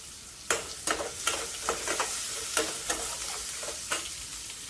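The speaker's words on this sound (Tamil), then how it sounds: "இப்போ கடுகு பொரிஞ்சிச்சு. நல்லா செவக்க வறுத்துக்கலாம்." Sharp crackling pops of mustard seeds spluttering in hot oil, scattered irregular bursts over a steady sizzling hiss, close and fairly loud.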